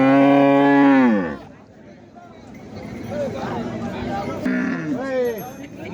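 A cow at a village cattle market lets out a loud, long moo, then a second shorter moo a few seconds later. Crowd chatter and people talking fill the background.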